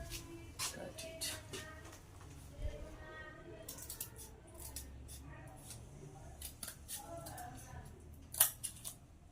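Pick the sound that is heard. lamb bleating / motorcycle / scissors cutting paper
scissors cutting paper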